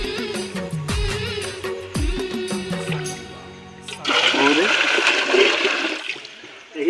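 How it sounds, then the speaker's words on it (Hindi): A natural stream flows with a rushing, splashing gush that swells in the second half, after a voice speaks over quieter water at the start. "इससे बहता पानी एकदम साफ दिखे ना"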